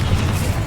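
Confringo spell explosion in the Hogwarts Legacy video game: a short, loud, deep boom with a thick rumbling low end, heard alone without speech.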